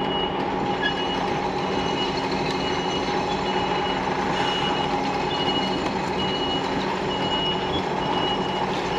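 HGV truck reversing, its beeper repeating steadily and loudly over a continuous engine rumble throughout, with no talking.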